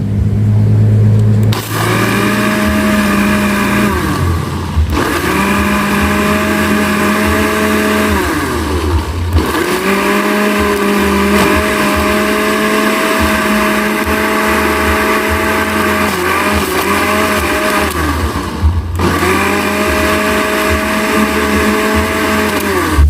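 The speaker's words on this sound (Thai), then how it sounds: "จากนั้นก็ปิดฝาแล้วก็ปั่นเลยค่ะ" A blender grinds a herbal pest-repellent mixture of herbs and a little water with a loud, steady motor whine. The motor stops briefly and restarts several times over the full length.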